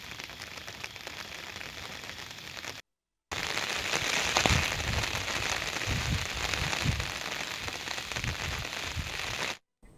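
Heavy rain from Cyclone Montha pouring down in Vijayawada, a steady dense hiss of rainfall with scattered heavier drops and splashes, continuous and fairly loud, broken by two brief silent gaps.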